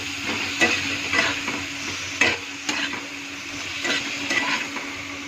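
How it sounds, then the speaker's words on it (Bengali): A cumin and ginger paste is stirred and fried in a pan, with a soft ongoing sizzle broken by repeated scraping strokes of a spoon about every half second, close and without speech. "এর মধ্যে আমি জিরা আদার পেস্ট ঢেলে দেবো 2 চামচ। তারপরে ভালো করে নেড়ে ছেড়ে"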